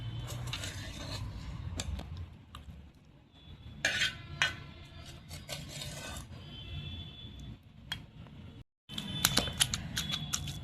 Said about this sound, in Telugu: ఈ టమోటాలని కూడా మంచిగా మెత్తగా అయ్యేదాకా దంచుకుందాం